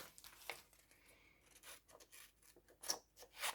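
Scissors snipping through paper during scrapbooking work on a Polaroid-style layout, a faint sequence of short irregular cuts and rustles close by.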